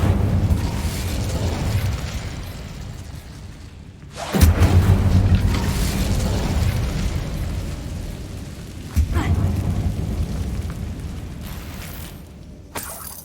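An Incendio fire spell is cast inside a tomb in Hogwarts Legacy: a sudden loud whooshing burst of flame around four seconds in, another flare later, with rumbling game ambience between.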